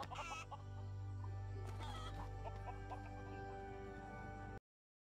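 Repeated chicken clucks from the video game Lego Worlds, fairly close and steady, layered over a constant low game hum, with a brief squawky burst at the start, before cutting abruptly to silence.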